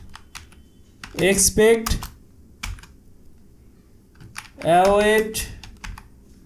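Keys click in short bursts on a computer keyboard as someone writes a Solidity test, with someone talking in between the taps.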